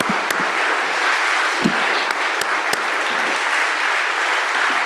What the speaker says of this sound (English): Let's go applaud that.